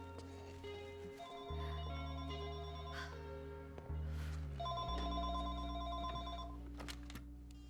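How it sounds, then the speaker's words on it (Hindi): A telephone rings indoors with a repeating electronic ring tone in stepped, melodic bursts, steady and moderately loud over a low hum, with no talking. "मैं जाकर देखता हूँ कि किसका फोन है"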